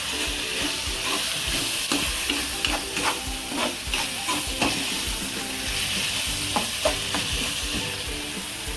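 Spring onion greens fry in a pan with salt, giving a steady, dense sizzle close up, broken by scattered clicks and scrapes as they are stirred, with no voices.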